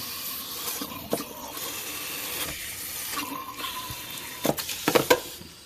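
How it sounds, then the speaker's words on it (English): Water drains from a clothes steamer being descaled with vinegar into a sink, a faint trickle and splash with intermittent drips and small gurgles that grow a little louder near the end. "So we are getting some water to come out that drain."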